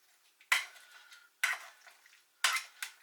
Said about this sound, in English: go in there with a masher